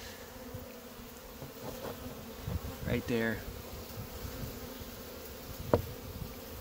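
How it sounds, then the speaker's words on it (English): Honeybees in a hive ball a queen, giving a low, continuous buzzing hum throughout with a few louder bursts, while someone speaks briefly over it. "Never stick your fingers on a bunch of bees balling a queen."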